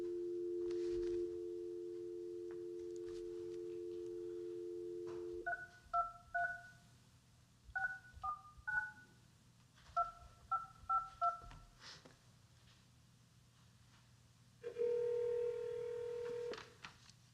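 A phone in a public hearing room is dialed: a long steady tone, then three quick bursts of paired keypad beeps, followed by another sustained tone, all fairly quiet against a low room hum.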